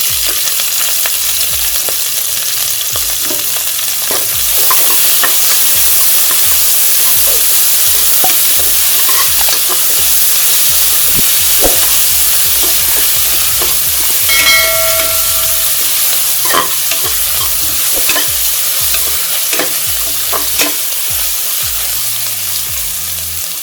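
Onions sautéing with green chillies in a pan for Tamil vegetable biryani, a loud continuous sizzle and hiss with scattered stirring scrapes throughout.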